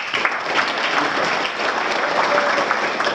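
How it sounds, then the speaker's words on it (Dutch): An audience at a political debate evening in Staphorst gives a loud, dense round of applause for the youth council, steady clapping that continues through the whole stretch. "Applaus voor de Jongerenraad."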